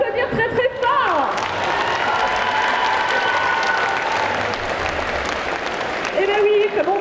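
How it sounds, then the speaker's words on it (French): Audience at a cosplay contest at the Bordeaux Geekfest, a dense sustained burst of applause with some cheering from a crowd, loud and continuous, with a voice speaking briefly at the start and end. "Vous pouvez l'applaudir très très fort."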